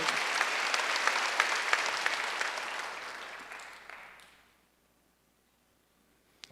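Church congregation at a Wednesday worship service clapping together, a full round of applause that gradually thins and dies out into near silence halfway through.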